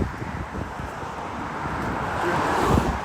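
Road traffic near Rouge National Urban Park in Toronto makes a continuous low roar under strong wind noise, and a passing vehicle swells slightly louder toward the end.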